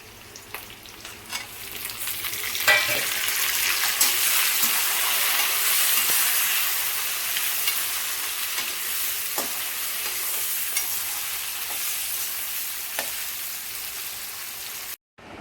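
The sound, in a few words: cashews and tomatoes frying in a pan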